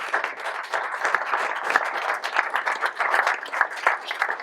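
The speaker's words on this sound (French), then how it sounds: "On peut les applaudir régulièrement" Steady applause from an audience at a football club's annual general meeting fills the room, a dense patter of many hands clapping continuously with slight swells and no pauses.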